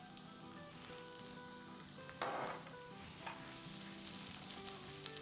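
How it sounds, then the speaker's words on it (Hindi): Chopped onions sizzling as they sauté in a pan for calzone filling, a steady close frying hiss with a brief stir scrape, no talk. "प्याज हमारी सिजल होना शुरू हो गई है"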